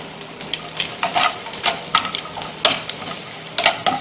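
Curry powder, a cinnamon stick and cardamom pods sizzle in a pan while a spoon stirs them, giving a steady frying hiss broken by repeated scraping strokes.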